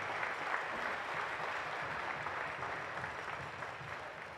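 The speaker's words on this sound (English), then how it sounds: "please give yourself a round of applause" Sustained audience applause at a Coal Bowl 2024 closing ceremony, dense and even throughout with no talking over it, from a large crowd in a hall.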